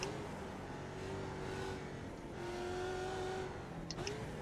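Production race car at Bathurst in iRacing, engine howling at full throttle with rising pitch sweeps through gear changes, steady and close throughout, no voices.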